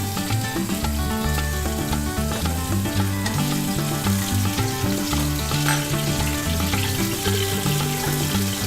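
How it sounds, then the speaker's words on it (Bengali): Prawns fry in hot white oil in a wok, a loud, steady sizzle and crackle running throughout without pause. "তেলটা গরম হয়ে গেলে চিংড়ি মাছগুলো দিয়ে দেবো।"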